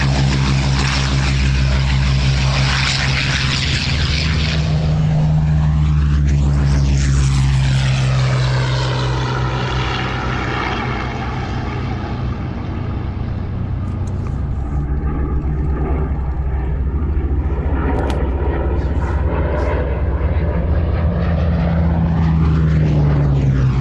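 A historic propeller airplane built in Canada in 1940 takes off at Old Warden, its engine droning loud and steady throughout with a rising and falling whine as the aircraft gets airborne and passes.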